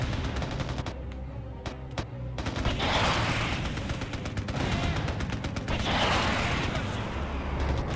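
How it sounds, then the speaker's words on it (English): Heavy machine gun fire in the Mercenaries video game: a long run of rapid, rattling bursts, briefly spaced early on, then a sustained loud barrage with booming impacts underneath. "Heavy machine guns."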